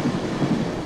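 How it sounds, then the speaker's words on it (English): A Colebrookdale Railroad passenger train rumbles loudly and steadily from inside the car, a dense continuous roar with faint rail clatter and no voices. "This train sure can get loud"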